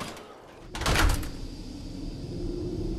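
A red backstage door in a Nuka-World amphitheater in Fallout 4 opens with a sudden loud whoosh and clunk, then fades into a low lingering room hum.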